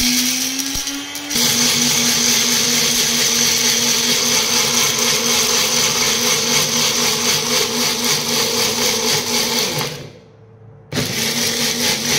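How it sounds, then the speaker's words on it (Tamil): A blender grinds coconut and water for a hair pack with a loud, steady high-pitched whine. It cuts out briefly near the end, then starts again. "இப்போ பிளெண்ட் பண்ணி எடுத்துக்கலாம்"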